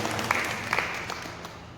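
Audience applause at a religious discourse gathering in Haridwar, a steady patter of many hands clapping with a few sharper claps standing out, moderately loud and gradually fading, with no speech over it.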